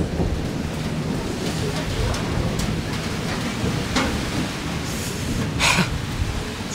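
A downpour hammers steadily on the cold, stormy La Barranca canyon lookout, a thick unbroken roar of rain with low thunder-like rumble and a few sharper splashes.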